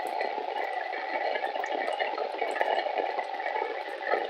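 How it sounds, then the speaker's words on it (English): A sump pump discharging water outdoors, a steady, loud rush and gurgle of flowing water that holds constant throughout. "There's my sump pump in action."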